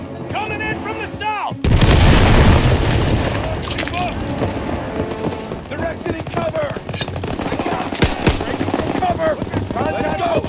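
Machine-gun and rifle fire in the Call of Duty WWII video game, rapid loud bursts erupting over a chaotic battlefield with explosions, while soldiers shout orders throughout.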